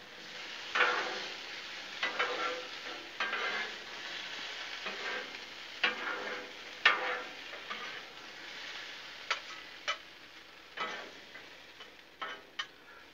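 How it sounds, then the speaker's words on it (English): Cubed potatoes sizzle and fry on a Blackstone griddle while a spatula stirs and scrapes them in repeated sharp clicks and taps over a steady hiss, close and fairly loud. "Let's give them a good stir."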